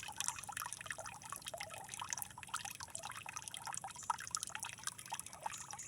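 Spring water pours and drips continuously at a rural countryside spring, a close, steady trickle with bright splashing droplets and no talking.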